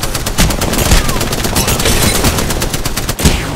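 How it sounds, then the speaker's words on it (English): Dense, continuous video-game gunfire crackles throughout a firefight, rapid automatic bursts layered with heavier shots, loud and close, with no voices over it. "Taking fire."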